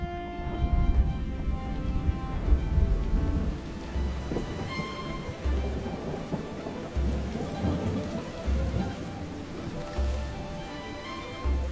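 Heavy monsoon rain pours down steadily while deep rolls of thunder rumble repeatedly underneath, a dense, continuous downpour with low booms recurring every second or two and no voices.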